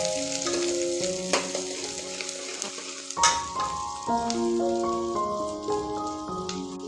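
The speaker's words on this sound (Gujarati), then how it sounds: "હવે અંદર આપણે ડુંગળી નાખશું। હવે આ ડુંગળીને આપણે બરોબર મિક્સ કરી લેશું।" Onions sizzle steadily in a pan as they fry for a gravy, with repeated spoon scrapes and taps from stirring, close and fairly loud, over a tonal background of soft music.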